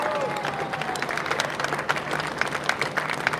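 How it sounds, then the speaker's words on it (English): A short burst of clapping and applause from a crowd at a college graduation ceremony, steady and moderately loud throughout. "Round of applause there, ladies and gentlemen."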